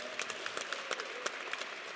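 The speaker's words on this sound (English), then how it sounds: "Give him a warm round of applause." A crowd at a university event for a new head football coach gives a brief burst of dense, steady applause with sharp individual claps poking through.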